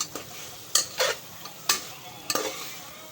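Rice being stirred and tossed with cooked vegetables in a pan for pulao, with several distinct scraping stir strokes over a faint sizzle, close and fairly quiet, no talking.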